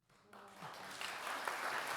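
A short applause sound effect played during a podcast swells from quiet to a steady crowd of clapping over two seconds, with a voice faintly underneath.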